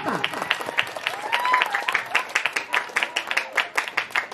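A crowd applauds loudly with rapid, continuous clapping, while voices and cheers rise briefly over it.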